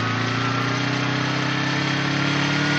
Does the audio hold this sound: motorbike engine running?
yes